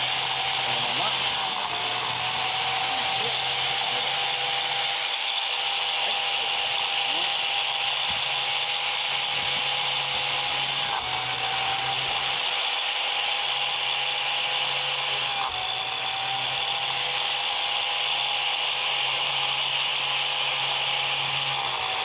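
A powered biscuit joiner hums steadily with a high whine while cutting a straight slot in wood for box furniture, loud and continuous throughout.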